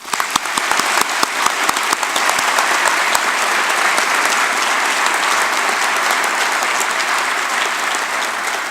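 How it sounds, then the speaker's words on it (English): Graduation audience applauding the class at a PLEA ceremony, sustained loud crowd clapping with sharp individual claps standing out early, then a dense, even roar that holds to the end. "I would like everybody to join me in a round of applause"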